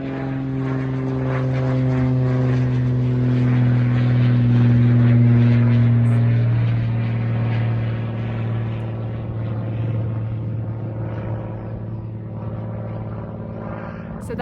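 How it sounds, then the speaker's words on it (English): Small propeller plane taking off from Torrance's municipal Zamperini Airport, a steady droning engine hum that swells loud and close, then slowly fades as it climbs away, heard alone without talk. "Small aircraft taking off from that Torrance Airport, Zamperini Airport here, municipal airport"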